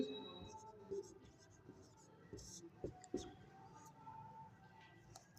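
Pen scratches on paper while notes are written during an economics lesson, faint quick strokes and taps in short bursts, quiet and close, with soft speech in the background.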